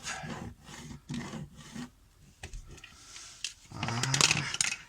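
An opening is cut between hole-saw holes in an electrical outlet box. Several rhythmic rasping, sawing strokes come close up, pause, then return as a longer, louder stretch of scraping.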